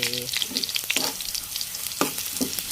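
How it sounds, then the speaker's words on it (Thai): Garlic fries on low heat in a pan, with a continuous close crackling sizzle and a few sharper stirring scrapes. "ตอนนี้กำลังเจียวกระเทียมนะคะไฟอ่อน"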